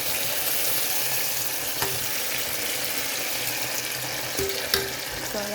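Mung beans sautéing in a hot pan, a dense continuous sizzle with a few faint scrapes and clinks of a utensil, close and fairly loud, without speech.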